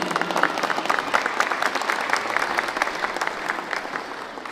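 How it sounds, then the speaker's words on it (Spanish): Crowd applause for a municipal president at the inauguration of a Tecnológico Nacional de México campus in Tlahuitoltepec, a steady burst of many hands clapping that fades slightly at the end. "para quien pido un fuerte aplauso"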